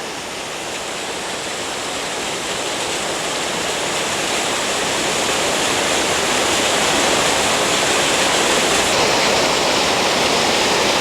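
Catawba Falls near Old Fort, North Carolina, a waterfall dropping in several streams, gives a steady, dense broadband roar that swells slightly louder over its length, with no voices.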